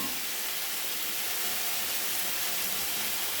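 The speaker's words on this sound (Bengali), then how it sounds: "চিংড়িগুলো ভেজে রেখেছি, এখন মশলাটা কষা হচ্ছে" Spice paste sizzles and fries steadily in a pan, with prawns already fried, giving a close, continuous hiss without breaks.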